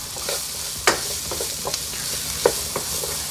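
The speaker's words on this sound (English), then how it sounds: "we're gonna add in our red pepper. Mix that in there." Sausage, potatoes and red pepper sizzle softly in a skillet with a steady hiss. Occasional sharp scrapes and clicks come from stirring.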